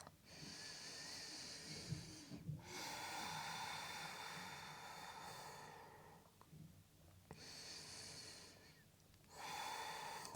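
Slow, deep breaths taken during a yoga and pilates session, a few long airy inhales and exhales spaced several seconds apart, close and fairly quiet with pauses between them.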